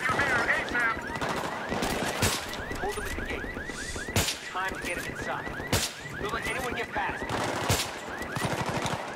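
Rapid bursts of automatic gunfire and single shots crack through a Battlefield 3 video game battle, dense and loud over game sounds, with someone talking briefly.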